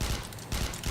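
Rapid bursts of gunfire in the shooter game Interstellar Marines as lights on a map are shot out, two loud volleys separated by a brief lull.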